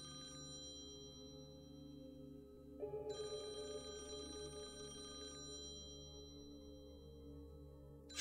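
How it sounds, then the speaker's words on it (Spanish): A telephone rings inside a house in the game Conway: Disappearance at Dahlia View, a faint electronic bell trilling in a sustained burst over a quiet steady hum, with no speech. "está sonando el teléfono o algo así"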